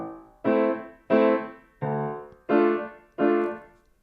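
A piano plays a Chopin waltz in five heavy, evenly spaced strikes, each one a loud bass note merged with a chord, close and resonant with no voices.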